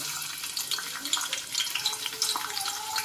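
Onion dropped into heated oil for tempering while cooking a spicy mutton curry, giving a steady bright hiss and crackle of sizzling close by with no talk.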